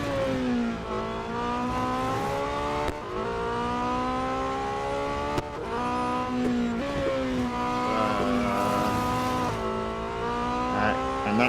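A Ferrari in the mobile racing game Real Racing 3, its engine revving and shifting through gears while tires squeal in skids, loud and continuous with sweeping pitch changes and a couple of sharp clicks.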